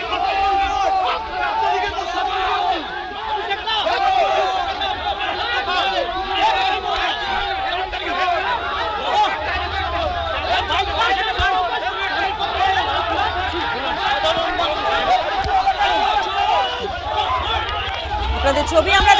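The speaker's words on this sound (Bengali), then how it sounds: "চোর চোর স্লোগান দেওয়া হয় অভিষেককে দেখে" An angry crowd chanting "thief, thief" at Abhishek Banerjee in Sonarpur, a dense, loud roar of shouting voices and running commotion that goes on without a break.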